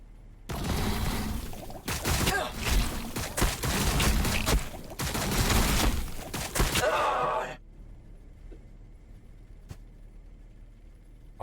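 Gunfire from the strategy game Warhammer 40K: Battlesector, with dense, loud bursts of shots and explosions for about seven seconds. Then it drops abruptly to a faint, quiet background.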